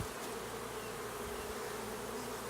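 Honey bees swarm around their hives in a steady, low, fairly quiet drone of buzzing wings that holds evenly throughout, with no talking.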